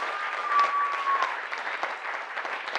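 An audience in a hall claps steadily, dense and even applause from many hands sustained throughout without a break.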